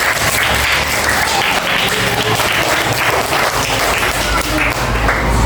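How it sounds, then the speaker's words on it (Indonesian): Fourth-grade primary school classroom of children applauding their classmates during a science lesson, a steady dense patter of clapping filling the room throughout, loud and close, with some voices mixed in. "Beri tepuk tangan dulu ke teman-teman."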